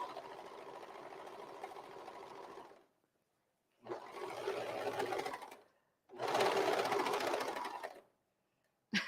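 Serger sewing machine stitching a fabric apron, running in three continuous bursts of a few seconds each with short silent pauses between, close and steady.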